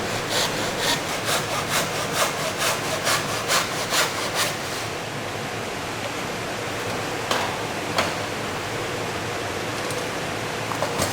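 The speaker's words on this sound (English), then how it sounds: "cut down the line and be careful not for the saw to wander off." A hand saw cuts through a wooden skirting board in a miter box, with rhythmic rasping back-and-forth strokes for several seconds before easing into a steadier hiss, interrupted by a couple of isolated scrapes near the end.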